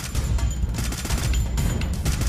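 Dense, continuous video game gunfire and blasts from an explosive gun fill the whole stretch, loud and close with no pauses.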